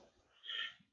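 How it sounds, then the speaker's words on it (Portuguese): A single short cough bursts out once, close and fairly muffled, from a presenter during a talk on safe handling of chlorine cylinders, with faint breathing before it and quiet afterward. "Perdoem a tosse."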